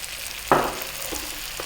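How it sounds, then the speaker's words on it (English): Eggplant and cauliflower hit a hot pan with garlic-ginger paste and salt for a vegetable curry, giving one sudden loud sizzle that fades into a quieter, steady fry with a few soft stirring sounds. Nobody speaks. "I'm then going to add in my eggplant and my cauliflower."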